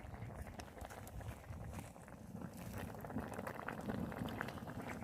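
A pot of mackerel stew boils hard over a wood fire outdoors, bubbling and popping in a dense, steady churn that sounds faint and close.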